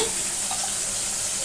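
Prawns fry in a pan on a gas stove while being stirred, a dense, continuous hiss of sizzling oil with soft scraping, close and loud, no talking.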